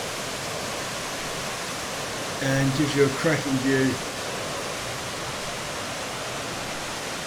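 A steady broadband rush of falling water at Eurobin Falls on Mount Buffalo, Australia, heard from the upper lookout, fills the background, with a voice speaking briefly over it in the middle.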